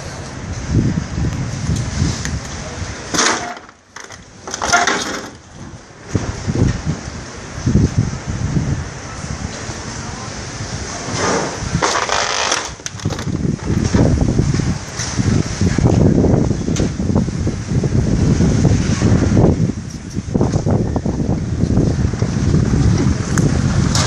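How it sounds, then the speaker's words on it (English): Strong, gusty wind roars steadily across a beachfront area wrecked by a tornado, loud and buffeting against the microphone. "The wind is still blowing real hard."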